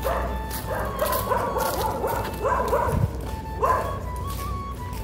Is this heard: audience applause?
no